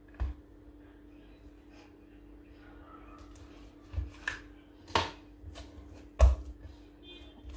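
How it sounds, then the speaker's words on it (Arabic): A knife cuts a log of almond and apricot fekkas dough into three pieces on a board. A few distinct knocks of the blade land a second or so apart, over a quiet background hum. "غنقطع هاد الفقاس ديالي لثلاثة ديال القطع"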